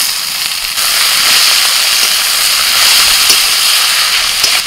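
Loud, steady sizzling hiss of onions, garlic and spices frying in hot oil, with a sudden jump in intensity as boiled cabbage leaves are added to the pan.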